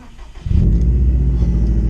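A 2014 Subaru Impreza WRX STi with a Nameless Performance catback exhaust cranks and fires up about half a second in. A loud, deep, steady exhaust rumble follows, close by.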